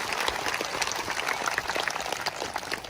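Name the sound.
congregation applauding loudly for the Lord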